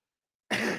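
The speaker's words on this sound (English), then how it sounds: "Let me make sure I clear my throat for this." A single close throat clearing bursts out after half a second of silence, loud and rough, then tapers off, with no talk around it.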